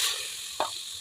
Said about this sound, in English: So we're going to add in our tomatoes.